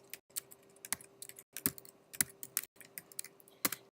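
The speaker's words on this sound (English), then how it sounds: "I'm going to type in C#." Quick bursts of clicky keystrokes on a computer keyboard, close and quiet, in short runs separated by brief pauses, with a faint steady hum underneath.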